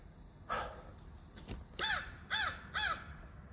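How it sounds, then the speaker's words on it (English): Crows cawing close by outdoors, three loud harsh caws in a steady rhythm after a fainter call, over low background noise. "These birds really fucking with me."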